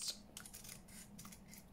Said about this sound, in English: cut that ridge off